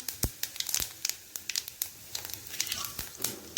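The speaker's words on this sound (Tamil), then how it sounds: "அதுக்கப்புறம் கொஞ்சமாக சோம்பு போட்டிருக்கேன்" Fennel seeds splutter in hot oil in a pan after mustard seeds, giving quiet, irregular sharp crackles and pops close by over a soft background hiss.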